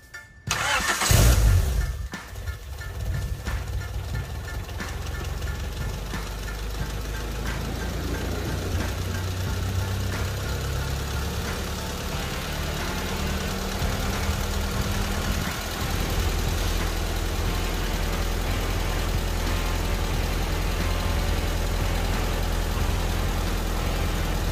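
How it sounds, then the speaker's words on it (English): A Honda H-series engine fitted with a newly installed 70mm throttle body cranks and fires with a loud burst, then settles into a steady, loud idle that runs continuously with no talk. "Time to fire this thing up."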